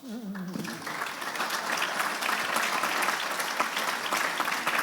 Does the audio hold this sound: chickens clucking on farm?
no